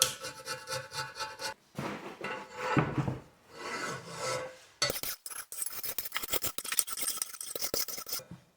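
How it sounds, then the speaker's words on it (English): Flat file rasps across a cast iron Allis Chalmers WD45 manifold gasket surface in short repeated strokes, starting softer and irregular, then turning into brisk, bright scraping passes near the end. "just running a flat file over them a little bit"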